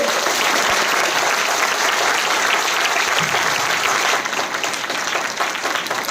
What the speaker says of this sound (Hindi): चाहूंगा जोरदार ताली आप सबके जज्बे के लिए।